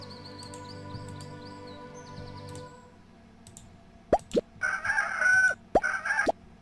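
Hen sounds from the video game Goblins Quest 3: after a stretch of quiet game music, a few sharp squawks and a crowing rooster-like call burst out loud and close, in short clustered bursts.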